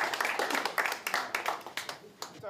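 Parents clap for graduates at a school graduation ceremony, a steady patter of many hands with sharp individual claps rising and falling over a crowd murmur.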